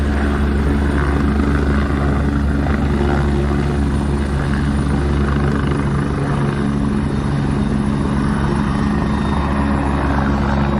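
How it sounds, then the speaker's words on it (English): A helicopter hovers close by and kicks up a dust storm, its loud, continuous rotor thump and turbine roar holding steady throughout with no pauses. "This helicopter creating a dust storm."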